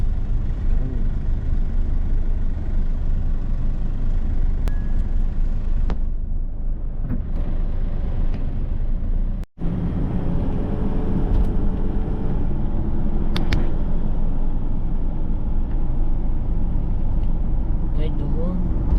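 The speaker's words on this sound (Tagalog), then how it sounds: "Traffic dito sa Skyway." Heavy traffic on the Skyway: a steady rumble of car, bus and truck engines with vehicles passing close by, a brief dropout midway, and people talking over the road noise throughout.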